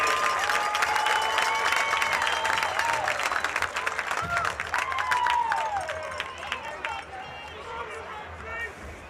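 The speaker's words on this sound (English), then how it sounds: "Another round of applause for our very own, the Betsy Band." A crowd applauds and cheers for the Betsy Band at a live high school football game at halftime. The clapping is dense and continuous, with shouts and crowd noise, and it stays loud across the clip before easing slightly toward the end.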